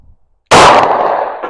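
A Smith & Wesson M&P Shield .40 pistol fires one loud, sharp shot after near-silence, followed by a ringing tail that fades over about a second.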